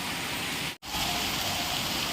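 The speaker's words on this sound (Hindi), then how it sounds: "ये देखो कैसे पानी आ रहा है छतों से भी बह बह के। बढ़िया वाली बारिश हो गई है जी गांव में" Heavy rain falls on a village, water pouring and splashing off rooftops in a dense, steady hiss with one brief dropout, loud and continuous with no talk.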